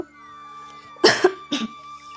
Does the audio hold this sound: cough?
yes